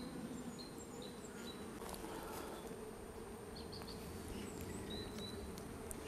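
Honeybees buzz steadily in an open beehive at an apiary, a dense, continuous drone with individual bees flying close past, faint and unbroken, with no talking.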